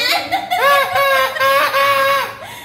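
Chicken toy blown hard, producing a series of squeaky, clucking honks in quick bursts that rise and fall in pitch, close and loud, with a child's laugh nearby.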